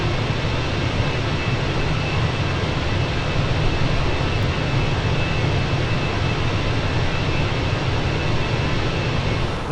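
Airliner cabin and engine roar from Microsoft Flight Simulator while flying over the Swiss Alps: a steady, loud, unbroken broadband rumble with a faint constant whine, no voices.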